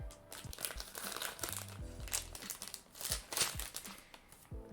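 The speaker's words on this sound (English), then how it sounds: "You're gonna get a lot of crinkling noises" Packaging crinkles and crackles up close in irregular bursts while wedding decorations are crafted for miniatures, loud rustling rising and falling with no talk over it.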